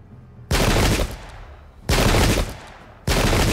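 Three loud, broadband musket volleys crash out in the Pike and Shot battle game, each about half a second to a second long with steady gaps between, the massed fire of a line of shot.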